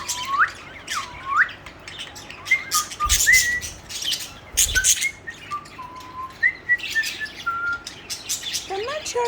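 Pet budgies and lovebirds squawking and chirping together indoors, with a busy mix of sharp calls, whistles and twittering, some close and loud, plus brief clattering and faint voices in the background.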